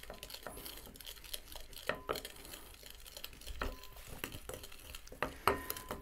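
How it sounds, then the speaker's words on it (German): Chocolate being stirred by hand into an egg and sugar mixture for chocolate mousse, a scraping spoon against a bowl with scattered clinks and knocks, fairly close and moderate. "Und dann einfach nach und nach die Schokolade hier so ein bisschen unterrühren."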